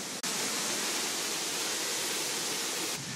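Aberdulais waterfall rushing, a steady, loud, close roar of falling water that fills the whole stretch with no voices.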